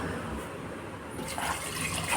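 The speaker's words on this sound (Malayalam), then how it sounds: "വെള്ളം ഒഴിക്കണം കേട്ടോ." Water pours into a pot of lentils and pumpkin for a Kerala pumpkin curry, a steady close splashing and filling sound that swells toward the end, with no talk.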